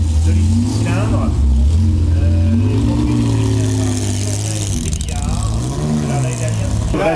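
A Porsche 911 with a two-litre six-cylinder engine runs at the start of the 2007 Tour Auto. A loud, close engine hums and rises in pitch under continuous commentary.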